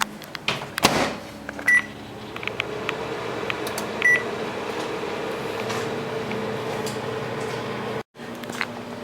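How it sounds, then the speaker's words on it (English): A microwave oven heats marshmallows with a steady electrical hum, broken by a couple of short beeps and clicks early on and a brief cutout near the end. "put them in the microwave for 1 minute and 30 seconds"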